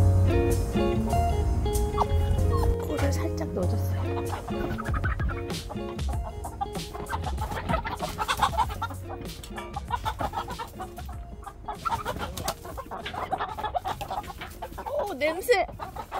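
Chickens in a coop cluck and squawk repeatedly at close range, stirred up as a small dog gets inside. Voices chatter intermittently over the birds.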